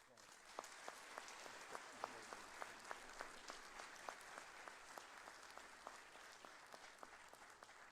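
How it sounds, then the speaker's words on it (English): An audience at a sheriff's office awards ceremony applauds steadily, a dense, distant wash of clapping with sharper individual claps standing out, sustained without voices. "please give them a big round of applause"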